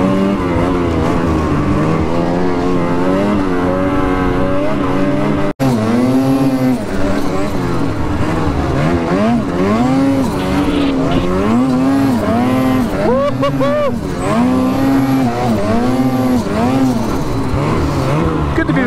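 A Ski-Doo turbo snowmobile engine runs loud and close throughout, its pitch sweeping up and down as the rider revs and throttles on the trail, with a brief cut-out early on.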